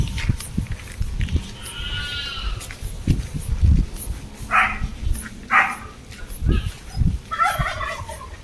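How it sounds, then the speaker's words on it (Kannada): Several chickens call in short, separate bursts, some warbling or gobble-like, over thumps and background noise on a farm, fairly close and loud. "ಎಷ್ಟು ಕೋಳಿ ಇವು ಬೆಂಕಿ ಕೋಳಿಗಳು"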